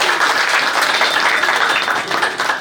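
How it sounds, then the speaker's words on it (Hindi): Hindi schoolteachers and staff at a retirement farewell clap loudly in welcome, a close, dense round of applause that holds strong and eases slightly near the end. "आप जोरदार तालियां बजाएंगे।"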